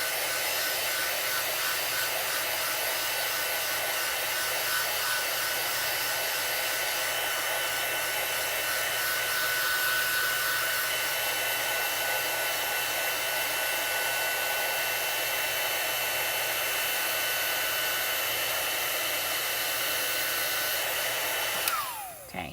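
A heat tool blows steadily and loudly to melt makeup, a constant airy roar that runs nearly the whole time before cutting off at the end, with no voices over it.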